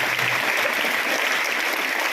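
Steady, dense applause from an audience welcoming guests at a school adolescent health programme, filling the room evenly without a break and with no voices over it.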